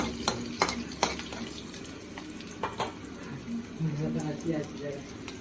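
Homemade paneer pieces frying in a pan, a soft sizzle with sharp clatters of stirring and utensil knocks, while someone talks over the cooking.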